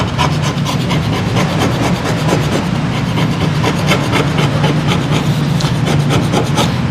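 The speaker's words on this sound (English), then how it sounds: "I've got to wet and scrape this entire piece of furniture to a certain extent." Continuous, loud rasping scrape of a tool working over the wetted surface of a wooden furniture piece, steady and close with no pauses.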